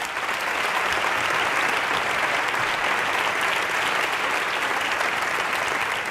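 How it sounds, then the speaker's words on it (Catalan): A large theatre audience at a performing-arts awards ceremony gives loud, dense, sustained applause that holds steady throughout. "Fort aplaudiment per a Tic-Tac, el seu equip artístic i el seu equip tècnic que està per la casa."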